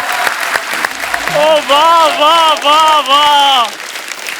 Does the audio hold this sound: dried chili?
no